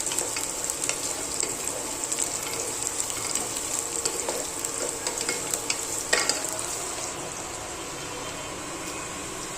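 Onions frying in oil for mung bean misal make a faint, steady sizzle with occasional soft stirring scrapes throughout.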